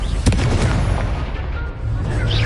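Confringo blasting spell explosions in the Hogwarts Legacy video game, booming bursts with a deep rumble and sharp onsets over busy combat noise.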